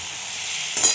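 Small puti fish frying in a pan for a spiceless chachchori, a brief close sizzle that flares sharply near the end.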